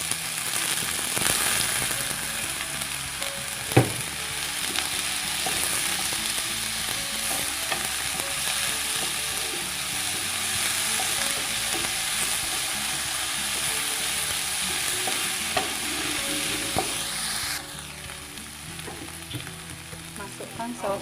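Chili and bitter melon stir-frying in a pan for an egg dish, a steady loud sizzle with clatter of a utensil against the pan, continuous throughout and dropping slightly near the end.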